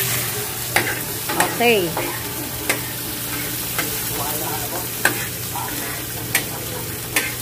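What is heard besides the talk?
stirring tomatoes cooking in a frying pan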